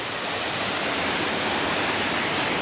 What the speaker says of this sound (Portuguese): E tem a cascata aqui.